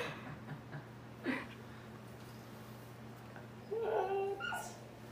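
Husky dog making soft whimpers and a couple of high yips, faint and close, with a steady low hum underneath and a brief voice-like murmur at times.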